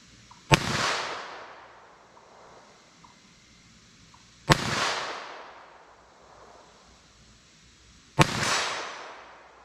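Three sharp .22 rimfire pistol shots fired outdoors at a 40-yard target, each a loud crack with a short trailing echo, spaced about four seconds apart.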